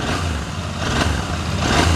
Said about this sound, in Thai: ยังคงเป็นท่อเดิมอยู่เรามาฟังเสียงท่อกัน